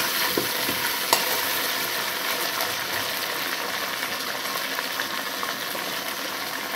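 Pieces of gati kochu taro root frying in a pan, a loud, steady, close sizzle with a couple of faint clinks from stirring.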